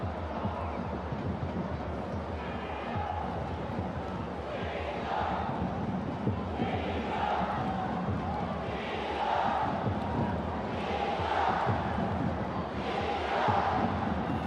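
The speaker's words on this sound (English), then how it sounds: "So the crowd rises to as loud as they've been during any course of the game so far." A large stadium crowd at an under-20 football friendship match between China and Australia roars continuously, swelling in repeated surges of cheering and chanting that rise louder toward the end, with no talk over it.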